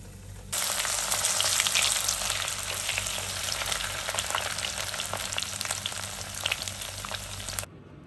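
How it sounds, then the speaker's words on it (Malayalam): Ginger fries in a pan of hot oil, a loud, steady sizzle that starts abruptly and cuts off cleanly after several seconds. "ബാക്കിയെല്ലാ ഇഞ്ചികളും ഇതുപോലെ തന്നെ ഒന്ന് വറുത്തെടുക്കാം"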